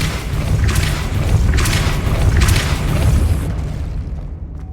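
Magical Depulso spell cast at a spinning mechanism in the Hogwarts Legacy video game: three loud booming bursts in a row, each a heavy thud with a bright rush, fading into a quieter tail.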